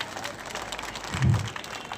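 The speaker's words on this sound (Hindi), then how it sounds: "जोरदार तालियां एक बार हो जाए।" An audience claps at an honour ceremony, a soft spread of hand claps that swells briefly near the end, with faint chatter mixed in.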